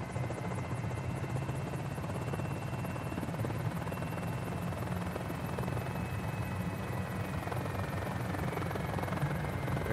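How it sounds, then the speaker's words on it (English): Helicopter engine held at full throttle in Microsoft Flight Simulator, a steady loud turbine whine with rapid rotor chop running unbroken and alone throughout. "this is an awesome little helicopter to fly in. All right, we're at full throttle, and now I can activate the governor."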